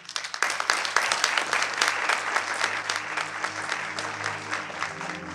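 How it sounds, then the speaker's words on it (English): A seminar audience gives a sustained round of applause, steady dense clapping from many hands filling the room at moderate volume, with no voices over it. "I really want to start by that round of applause to everyone who have put this together."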